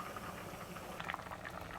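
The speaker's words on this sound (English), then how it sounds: "the cauliflower white bean soup has been simmering for 30 minutes" Cauliflower white bean soup simmers in a pot after half an hour of cooking, giving a soft, steady bubbling hiss with faint pops, quiet and close, with no voices.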